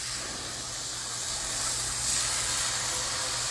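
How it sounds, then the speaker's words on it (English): A steady, bright sizzle of pork chops frying on a hot Blackstone griddle, constant hissing throughout with no talking. "Nice and hot when you can hear that sizzle."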